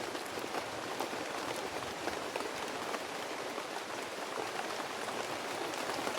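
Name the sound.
heavy rain in a video game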